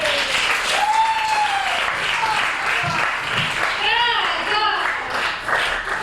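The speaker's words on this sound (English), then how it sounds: "Please give a big applause to Gladys Steinman." A stand-up comedy audience applauds comedian Gladys Steinman as she takes the stage, with loud, dense clapping and scattered whoops and cheers sustained throughout.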